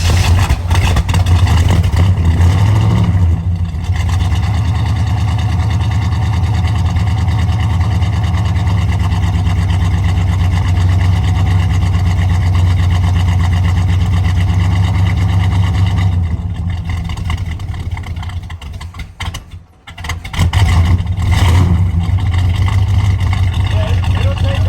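A 1964 Chevrolet Corvette Stingray with a 327 V8 and a freshly swapped Edelbrock carburetor runs loud and steady, blipped a few times with a brief dip near the end, while people talk nearby.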